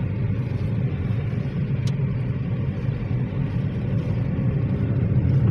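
A steady, loud engine rumble and road noise fill the cabin of a car cruising along behind another vehicle, the drone continuous throughout with a brief faint click partway through.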